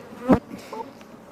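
Honey bees from a strong colony during a hive inspection, one close buzzing pass swelling loudly for a moment, then a softer, wavering hum of bees nearby.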